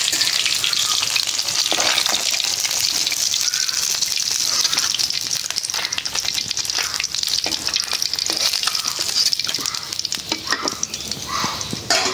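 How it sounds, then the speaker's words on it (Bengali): Hilsa fish frying in oil, a loud, dense, unbroken sizzle and crackle with stirring noises lasting throughout, no voices. "এখন ভাইজা নিব ইলিশ মাছ।"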